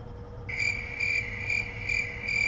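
Crickets chirp in steady pulsing trills, fairly loud and close, starting after a brief quiet moment and continuing alone without speech.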